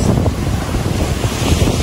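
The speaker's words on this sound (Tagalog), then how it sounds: "Ang lakas po ng alon" Strong waves pound Talao-Talao Beach in Quezon during Typhoon Enteng as a loud, continuous roar of surf, with heavy wind buffeting the microphone and no voices.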